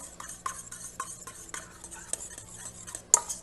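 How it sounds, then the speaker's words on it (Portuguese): A spoon stirs a bowl of dissolved sugar mixture for Swiss meringue, making quick, light, repeated clinks and scrapes against the bowl at close range, with one sharper knock near the end. "Vou misturar mais um pouquinho."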